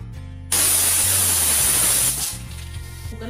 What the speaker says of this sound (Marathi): उकळी आल्यानंतर कुकर बंद करून 5 शिट्ट्या होऊन द्यायच्या